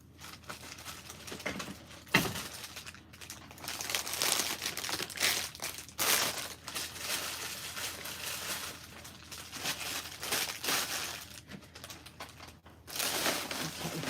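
Dry Spanish moss is handled for an autumn harvest wheat wreath, giving a continuous close crinkling and rustling with small crackles and occasional louder scrunches throughout. No one talks.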